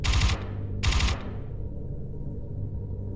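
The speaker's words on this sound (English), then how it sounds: "You have scenes like this where you get to shoot some bad guys with a turret" Two short rapid bursts of turret gunfire in the VR shooter Dead Effect 2 VR, loud and rattling, each followed by a fading low rumble.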